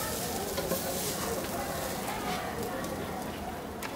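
Semolina and carrot for suji gajorer halwa sizzle and crackle in a saucepan, with soft stirring scrapes. The frying stays steady and close throughout.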